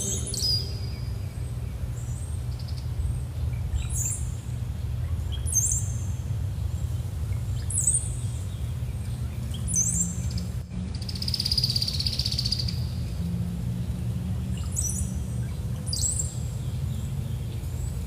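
Several birds chirp and call in short bursts over a steady low outdoor hum, with a brief louder call partway through.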